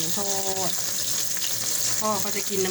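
Mackerel frying in oil, a loud continuous sizzle throughout, with a voice speaking briefly near the start and again near the end.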